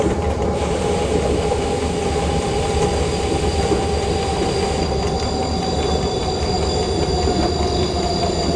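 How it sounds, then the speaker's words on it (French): Passenger train on the Alpine line from Grenoble to Veynes pulling into Saint-Georges-de-Comiers station: a steady loud rumble of rolling stock with a high wheel squeal and faint rail clatter throughout, no voices. "on arrive en gare de Saint-Georges-de-Comiers"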